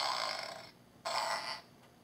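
A woman imitates a fart with her mouth: two raspy, buzzy blats, the first drawn out and the second shorter after a brief gap, close and fairly quiet.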